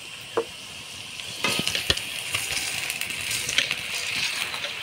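Onion frying in oil in a pot hisses steadily while a spoon stirs it, with a few sharp scraping clinks against the metal over the continuous sizzle.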